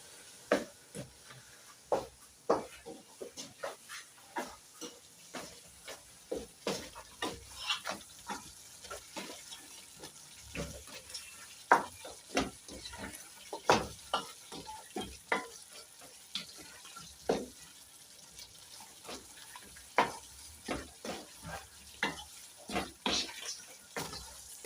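Whole spices and beef biryani base being stirred and fried in a pan, with a steady run of sharp scraping spoon strokes over a constant sizzle, loud and close, no voices.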